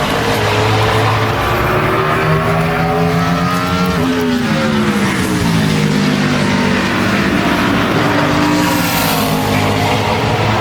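A NASCAR Sprint Cup race car on a qualifying lap at Richmond International Raceway roars loudly and continuously, its engine pitch rising and falling as it works around the track.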